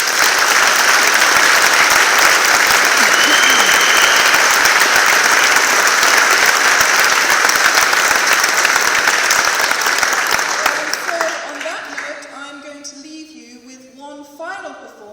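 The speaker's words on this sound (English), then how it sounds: "So a huge round of applause for the students." Loud, sustained applause from a large audience fills the room, then fades out, leaving a few voices talking at the end.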